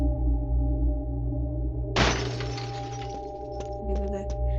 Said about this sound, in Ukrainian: Ми зараз розбиваємо вікно